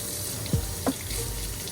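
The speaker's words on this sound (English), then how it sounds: "let's make sure the water's hot before we fill it" Hot water runs steadily from a tap to fill a mop bucket, a constant soft hiss with a couple of faint knocks, no voices.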